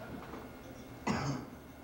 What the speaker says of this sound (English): I have to cough some phlegm onto the microphone.